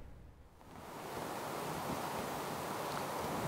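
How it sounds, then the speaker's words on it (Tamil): Strong cyclone wind roaring at Chennai's Marina beach during Cyclone Fengal, a dense steady rush that swells after the first second and buffets the microphone, with surf mixed in and no talk. "சென்னை மெரினா கடற்கரையில் அதிக அளவிலான காற்றே வீசப்படுகிறது"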